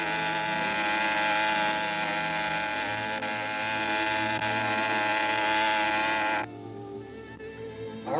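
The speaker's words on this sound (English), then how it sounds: "The whine of its propellers kept us awake until midnight when the park closed." A steady, droning whine from the propellers of an amusement park ride in Russia, heard continuously for several seconds before it drops abruptly in level and changes pitch near the end.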